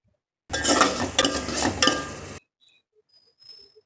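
Ginger garlic paste is stirred into a frying gokara kaaya (cluster bean) dish in a pan, giving about two seconds of close scraping and clinking with a faint sizzle, then near silence.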